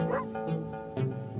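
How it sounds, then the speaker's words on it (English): A dog barks a few times in short bursts, close by, with brief pauses between the barks. "Pickles barked till he was hoarse."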